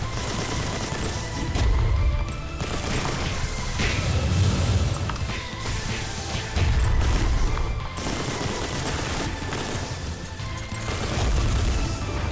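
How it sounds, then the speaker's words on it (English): Sustained gunfire from Gundam mechs in the Mass Builder video game, with dense rapid bursts and heavy booms rolling continuously for over ten seconds, loud and layered with no talking. "Keep firing here until we're out of ammo or we lose health or the enemy breaks through"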